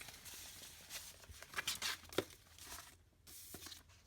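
Christmas countdown stickers peeled from a sticker sheet, soft tearing and crinkling paper sounds close by, rising in a few brief bursts then quieting.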